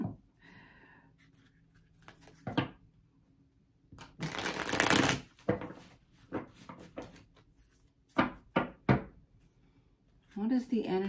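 Cards are shuffled in a few quick riffling bursts, the longest one loud and rushing, with soft voice murmurs and small handling noises between.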